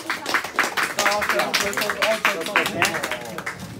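Clapping from the audience at a karting season award ceremony in Lublin, a sparse, modest round of hand claps under an announcer's voice calling out a podium finisher.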